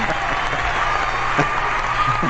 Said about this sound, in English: the applause for Gabby